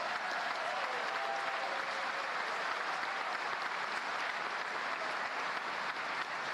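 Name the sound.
graduates applauding at commencement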